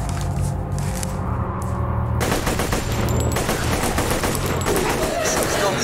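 Sustained automatic gunfire fired from the hip in Borderlands 2 VR, a loud rapid stream of shots that runs through almost the whole stretch over constant game ambience, with a brief thinner section before the firing intensifies.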